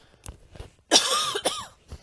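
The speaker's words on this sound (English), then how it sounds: "I keep coughing." A few isolated coughs, one sharp and rough near the middle, with softer throat sounds before and after, close to the mic.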